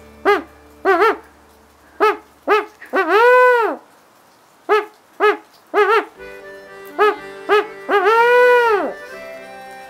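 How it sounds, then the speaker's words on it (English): A barred owl gives its 'who cooks for you all' call in two phrases: quick rhythmic hoots, each run ending in a long drawn-out hoot, loud and clear with no talking. "you'll know that it's just a barred owl trying to find his mate for the winter time"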